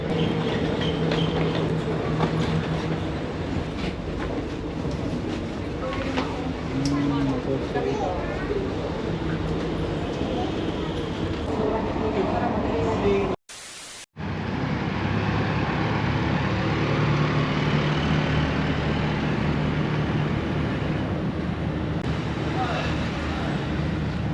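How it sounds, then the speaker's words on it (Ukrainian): Singapore metro train rumbling steadily through a station or tunnel, a continuous loud mechanical drone with a brief cut in the middle, people talking faintly over it. "Двері в поїзді в метро відкриваються на дві сторони."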